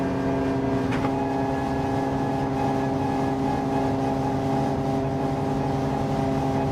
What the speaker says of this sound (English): Car sounds electric.